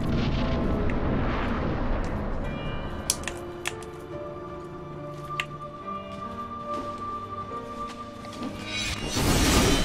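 A deep rumbling blast from Dark Souls 3 rolls out at the start and fades, followed by scattered sharp clicks and tonal game effects, with another heavy roar building at the end.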